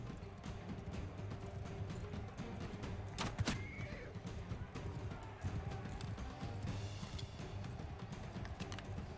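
Horse hooves clip-clop steadily in Mount & Blade 2 Bannerlord, with a brief neigh partway through amid battle noise, all fairly faint.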